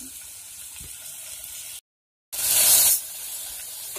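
Curry leaves dropped into hot oil with onions and dried red chillies for a chicken gravy, giving a sudden sharp, loud hissing spray that lasts about half a second and then settles back to a low background frying sizzle.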